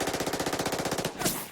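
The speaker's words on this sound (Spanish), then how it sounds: "Al contrario que Ismael, que usaba su M16 en modo automático para disparar ráfagas de cobertura" An M16 assault rifle fires on full automatic, a rapid, even burst of about twenty close, loud shots, followed by a short metallic clatter, heard as an audiobook sound effect.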